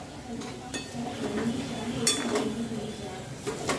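A pot of potato curry is checked with metal utensils, producing scattered clinks and scrapes of cookware in a home kitchen, fairly faint under a voice.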